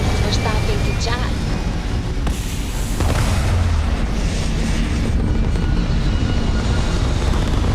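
A rocket lifting off in a space video game, a loud sustained roaring rumble with a heavy boom building partway through, filling the whole stretch.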